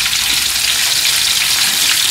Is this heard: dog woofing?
no